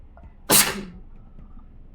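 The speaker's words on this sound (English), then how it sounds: "I'm sorry, I had to sneeze." A single sharp human sneeze, close and loud, bursts out once in an otherwise quiet room.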